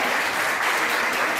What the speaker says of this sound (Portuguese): vamos aplaudir Sebastião